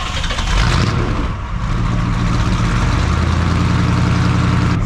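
A 1979 Jeep CJ-7 with a 304 V8 idles through a 3-inch stainless exhaust out to a stack, a loud, close, deep rumbling burble with a brief dip in level partway through.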